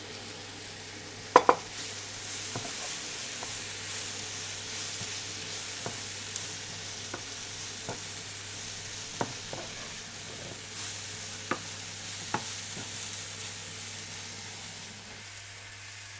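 Soft, continuous sizzling of sprouted black gram sautéing in a pan, with occasional sharp scrapes and clicks of a spatula stirring.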